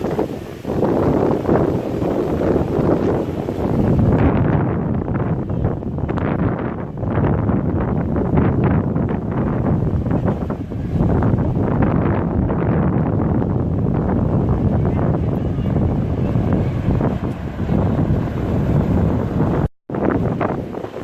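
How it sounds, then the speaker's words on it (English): Strong, continuous wind roars and buffets the microphone with a low rumble throughout outdoors at Epcot, Walt Disney World, briefly cutting out near the end. "It's pretty windy out."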